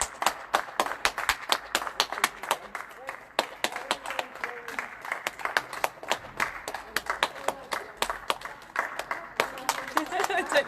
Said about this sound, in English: I don't know how long we clap for.